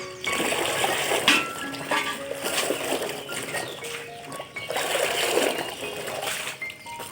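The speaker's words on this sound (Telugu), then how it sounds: "ఈ చీరని ఈ వాటర్లో అనేసి పెట్టేయాలండి." A folded saree is pressed down into a basin of water, giving soft sloshing and dripping splashes in two main bursts with quieter trickles between.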